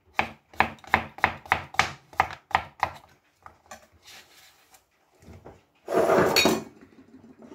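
A knife chops zucchini quickly on a cutting board, about ten crisp even strokes, then a few softer taps and a brief rustling clatter.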